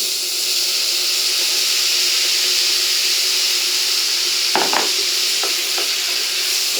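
Chicken pieces and caramelized onions sizzling in a pot for a chicken and beer blanquette, a loud, even, steamy hiss with a brief clatter of stirring toward the end, no talk.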